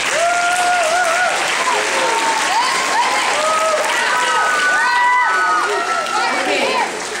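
A crowd bursts into loud, continuous applause mixed with whoops and shouted cheers, the clapping dense and close while excited voices rise and fall above it.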